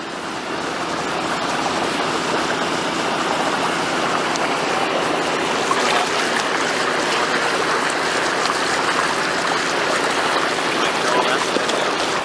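River water on the Umpqua River at Myrtletown, Oregon rushes at a water-filled AquaDam barrier where it threatens to spill over, a loud, continuous broadband wash that holds steady throughout.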